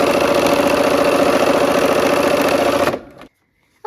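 A sewing machine runs at a steady, loud, rapid whir as it stitches a quilt block seam, then stops abruptly near the end, leaving near silence with a faint click.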